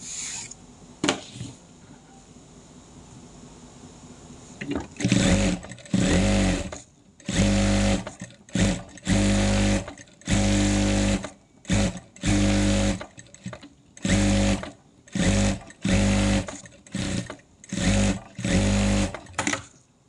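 A sewing machine stitches fabric for a round cloth pad in repeated bursts, its rapid motor whirring loud and close with short pauses between runs, after a quieter stretch of handling at the start.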